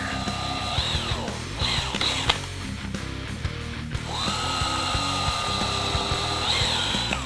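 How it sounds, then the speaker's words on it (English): A power drill whines up and down in bursts, drilling pilot holes into a bass guitar neck, pausing briefly between runs, close by, with faint clicks and thumps of work in the background. "come back through the hole, and drill into the neck"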